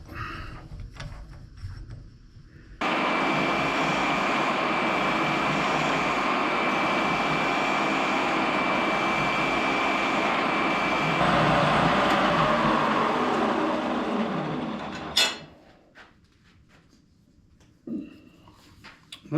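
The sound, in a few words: drum sander with coarse 60 grit drum sanding wood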